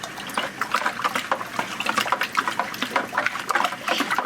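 Powdered Jacks 321 hydroponic nutrient being stirred into about four gallons of water, a busy run of close sloshing and swirling liquid sounds with irregular splashy bursts throughout, no talking.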